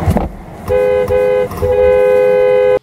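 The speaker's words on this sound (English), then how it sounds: "I honked the horn" Car horn honking from the driver's seat, a loud close blare held for about two seconds with a couple of brief breaks, after a short burst of noise at the start.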